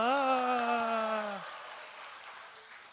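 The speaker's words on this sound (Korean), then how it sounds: "박수" At a children's contest awards ceremony of the Yeongdeungpo presbytery, a sustained voice opens, then gives way to soft, scattered applause that carries on faintly in the background.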